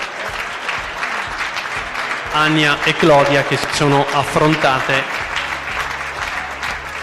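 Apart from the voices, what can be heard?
applause for both volleyball teams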